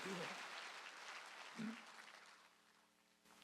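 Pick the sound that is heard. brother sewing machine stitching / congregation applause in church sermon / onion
congregation applause in church sermon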